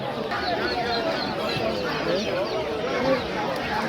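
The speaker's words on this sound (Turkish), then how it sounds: "Yumurtlayan toyuqlar da var." Chickens, including laying hens, cluck and chatter steadily throughout at a poultry market in Sabunchu, Azerbaijan, a busy flock sound mixed with background voices.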